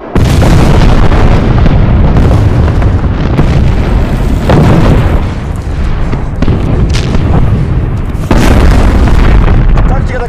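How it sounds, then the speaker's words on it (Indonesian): Loud, sustained rumbling booms of artillery fire in a war film battle against German tanks, repeated blasts blending into a continuous roar, with a few sharper bursts standing out. "Tembakan artileri pun diluncurkan."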